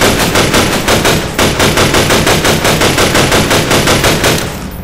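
Rapid automatic gunfire from a weapon in the video game Half-Life 2, a loud close burst of evenly spaced shots at a steady rhythm for several seconds before cutting off.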